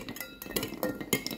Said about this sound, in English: There's ice cubes moving around.